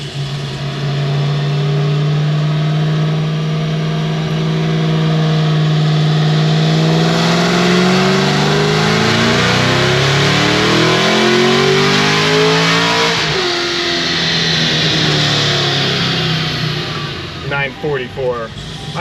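A 1200-horsepower Stage 5 Cadillac CT5-V Blackwing engine revs loud and close on a dyno, pitch climbing steadily through a long warm pull, dropping sharply, then surging in short burbling blips near the end.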